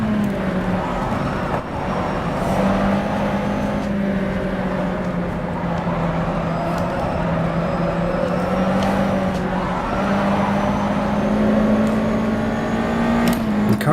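USF2000 open-wheel race car in rFactor 2 at Botniaring, its engine droning steadily and loud throughout with slowly shifting pitch, brief gear changes and faint clicks over the continuous roar, no talking.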